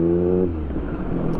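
A car engine hums nearby on a New York City street and then shifts pitch as it accelerates away, with a steady rumble of traffic underneath.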